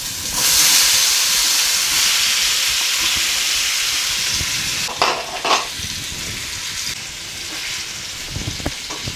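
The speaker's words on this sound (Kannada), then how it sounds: "ಪನ್ನೀರ್ ಫ್ರೈ ಮಾಡೋದಕ್ಕೆ 1-2 ಸ್ಪೂನ್ ಆಯಿಲ್ ಹಾಕ್ತಾಯಿದ್ದೀನಿ" Paneer sizzling in a spoonful or two of hot oil in a pan while cooking a dhaba-style paneer masala, a steady loud hiss that eases slightly, with a few clinks and stirring bursts near the end.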